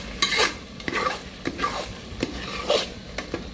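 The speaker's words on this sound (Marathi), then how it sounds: "मसालाही चांगला भाजला जातोय" Spicy masala paste frying in oil for chicken curry, stirred with a spoon in a pan, soft scraping strokes over a gentle sizzle, close and fairly quiet.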